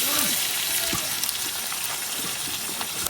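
Onion and garlic frying in oil in a village kitchen, a dense steady sizzle that fills the clip with occasional pops and stirring clatter, fairly close.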